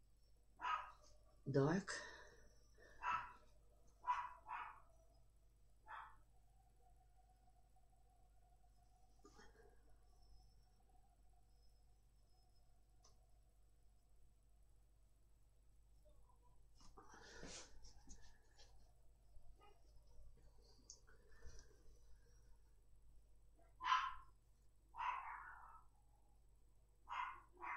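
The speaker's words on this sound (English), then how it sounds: "She is barking" Small dog barking indoors during an acrylic painting session, giving scattered sharp barks, a few near the start and a quick burst later, fairly faint in a quiet room with brief talk nearby.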